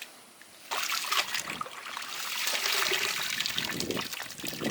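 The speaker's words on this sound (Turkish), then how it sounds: "Biraz suyun dolmasını bekleyeceğiz." Water pouring into a container while wheat is washed for bulgur, a splashing trickle that starts abruptly and builds into a steady, close rush, no talk.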